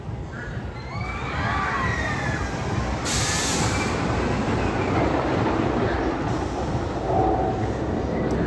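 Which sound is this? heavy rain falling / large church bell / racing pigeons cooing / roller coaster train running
roller coaster train running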